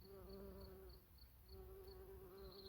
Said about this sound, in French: une belle abeille.